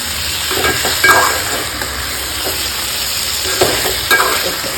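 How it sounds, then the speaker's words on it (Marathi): Ridge gourd vegetable frying in a pan while being stirred, a constant close sizzle with intermittent scraping and tapping of the spoon against the pan, no talking. "परत हलवूया."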